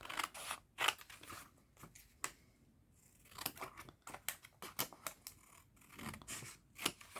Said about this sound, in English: Okay, and then I'm going to cut this up.